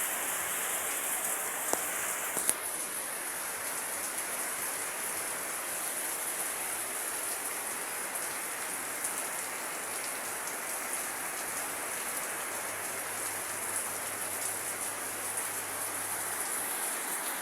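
Heavy rain pours down in a steady, dense hiss, close and constant, with a couple of brief clicks early on.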